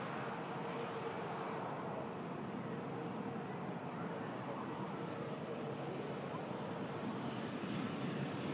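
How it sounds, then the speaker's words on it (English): An EasyJet airliner taxis toward the second runway, a steady distant jet roar with broadband rumble, fairly faint and unchanging throughout. "Also an EasyJet making its way over to the second runway for"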